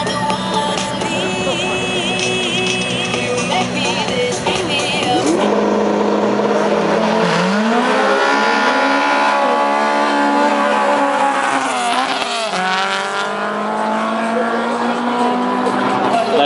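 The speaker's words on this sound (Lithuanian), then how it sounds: "Lotus Elise. Pilotuoja Edgars Erinč. Opel Corsa Rolandas Šležas" Lotus Elise and Opel Corsa at a Lithuanian drag racing championship round in Kazlų Rūda, with loud engines roaring and revving through gear changes as the cars accelerate down the strip, sustained throughout.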